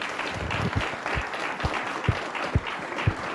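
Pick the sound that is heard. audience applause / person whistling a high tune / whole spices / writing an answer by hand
audience applause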